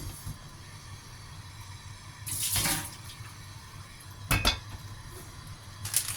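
Quiet room tone broken by two short splashing gushes of liquid poured out of a can of canned fish, with a faint clink at the end.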